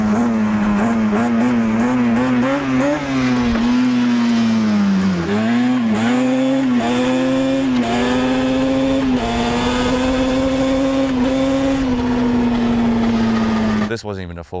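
A Yamaha Banshee ATV's two-stroke engine screams loud and close, with the revs climbing and dipping in repeated swells as the quad is lifted into a wheelie, then cutting off abruptly at the end.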